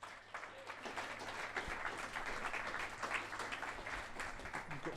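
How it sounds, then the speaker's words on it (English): Audience applause at an evening sales talk, a steady patter of many hands clapping at moderate distance that holds evenly for several seconds. "Round of applause, please."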